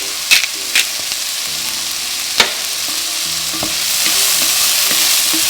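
Vegetables seasoned with cumin, salt and pepper fry loudly in a pan, a constant close sizzle broken by a few sharp stirring clacks of a utensil against the pan.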